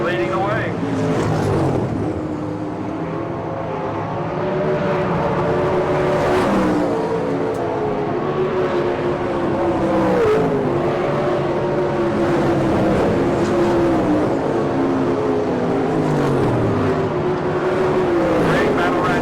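410 non-wing sprint cars racing on a dirt track, their loud engines droning and rising and falling in pitch as cars pass, with an announcer talking continuously over the roar.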